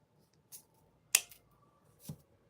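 Snips cut memory wire coils for a bracelet: a few short, sharp metallic clicks in a quiet room, the loudest near the middle. They sound close and isolated.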